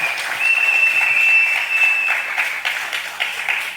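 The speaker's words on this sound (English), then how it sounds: "Let's give her another round of applause." Audience at a public meeting in Sangre Grande breaks into dense, sustained applause, a steady wash of many hands clapping close and loud that thins slightly toward the end.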